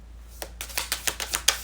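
Tarot cards shuffled by hand in a quick run of crisp riffling snaps, about ten sharp bursts in under two seconds, close and clear with no talking.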